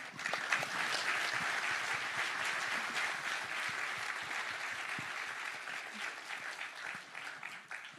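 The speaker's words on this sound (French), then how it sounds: "Je pense qu'on peut les applaudir." Audience applause for panel speakers at a founders' investment event, a broad steady wash of clapping that fades slightly toward the end, fairly distant and soft.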